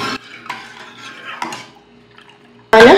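A spoon stirs warm milk in a pot, giving a few soft scrapes and light clinks against the metal, ending in a brief louder clatter.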